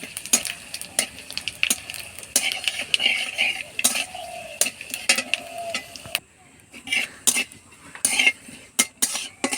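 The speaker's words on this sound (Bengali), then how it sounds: "1 চামচ 5 ফোড়ন আর 4টে শুকনো লঙ্কা দিয়ে" Panch phoron and dried chillies frying in hot mustard oil in a karahi, a crackling sizzle broken by repeated metallic clinks and scrapes of a spoon stirring, close and continuous.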